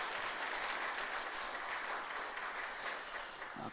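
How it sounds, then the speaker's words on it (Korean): A church congregation gives applause during a Sunday service, a dense, even, somewhat distant wash of clapping that holds steady before tapering slightly at the end. "우리 하나님께 영광의 박수를 한번 올려드리도록 하겠습니다"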